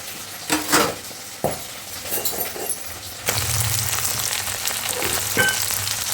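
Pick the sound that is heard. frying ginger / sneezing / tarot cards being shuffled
frying ginger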